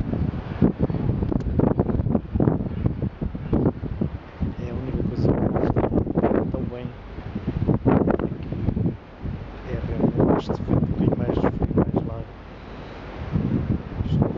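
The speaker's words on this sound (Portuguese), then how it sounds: "sem dúvida, este vento fresquinho nos oferece" Cool wind gusts buffet the microphone outdoors at the Palais du Pharo in Marseille, a steady rumbling roar that swells and dips throughout, mixed with voices talking.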